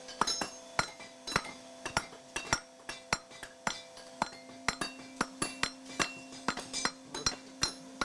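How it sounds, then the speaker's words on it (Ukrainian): A hammer forges hot metal in a steady, ringing rhythm, sharp clanks repeating every fraction of a second, close and bright. "Її добре розігрівають і виковують молотом."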